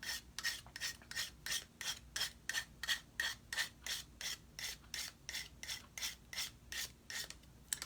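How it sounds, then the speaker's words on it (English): A fingernail file rasps quickly back and forth over a paper napkin edge stuck to scrap wood, about twenty close, even strokes in a steady rhythm with no voice. "I'm just going to sand that off with my fingernail file"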